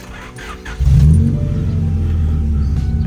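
A 1990s Honda Civic SiR engine idles while warming up, settling into a steady, loud, close rumble after an initial rise, with no talking.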